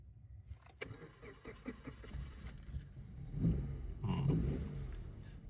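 A car engine cranks and turns over, then catches and settles into a running idle, close and moderately loud, following an earlier stretch of starter noise with no speech.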